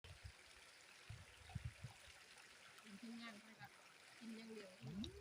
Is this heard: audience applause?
no